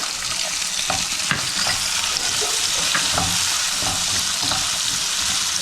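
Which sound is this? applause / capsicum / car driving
capsicum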